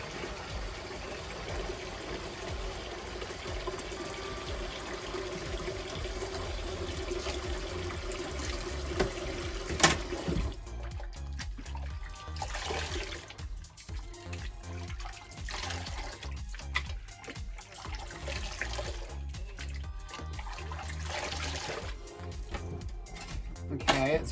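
A human hair full lace wig is rinsed in conditioner water, with continuous sloshing and trickling liquid, soft splashes, and running water throughout, close by with no talk.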